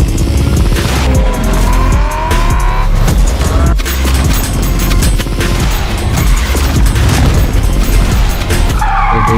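Tires skid and squeal through a loud, dense racing anime trailer, engine roar and impact booms piling up in rapid bursts with no gaps.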